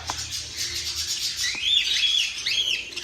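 Budgies and other birds in an aviary give short, bright chirps and warbling calls close by over a soft background rustle, with no talking.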